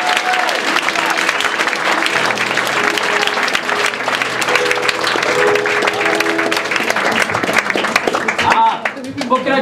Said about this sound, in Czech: Potlesk pro tuto dvojici.